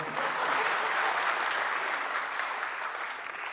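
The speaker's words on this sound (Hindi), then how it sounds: "तालियां बजाते रहो" A seated audience at a literature festival session with lyricist Manoj Muntashir breaks into sustained applause, a dense, even wash of clapping that holds steady and fades only slightly at the end.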